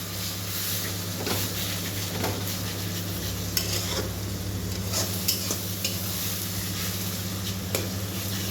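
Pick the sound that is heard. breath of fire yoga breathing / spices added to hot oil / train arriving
spices added to hot oil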